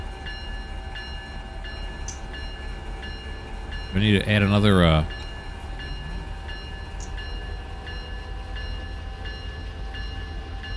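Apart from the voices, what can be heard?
heavy freight train moving, from video game Run 8 Train Simulator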